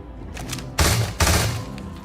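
Pistol gunfire in the video game Starfield: two loud, close bursts of shots in quick succession, each with a sharp attack and a short ringing tail, over a low background.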